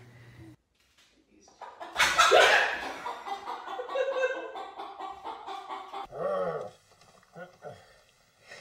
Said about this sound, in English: there's a chicken. Just chilling on the hood of my car.